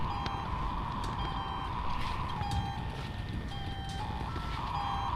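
A steady electronic beeping tone in the video game The Suicide of Rachel Foster, sustained and slightly shifting in pitch over a low ambient rumble, with no voices.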